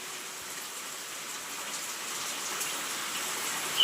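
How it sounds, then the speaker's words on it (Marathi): Heavy monsoon rain pours from a dark, cloud-filled sky, a soft, even hiss of drops heard on surfaces that stays steady and fairly distant throughout. "काय मस्त पाऊस पडतोय."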